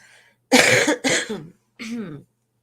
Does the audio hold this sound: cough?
yes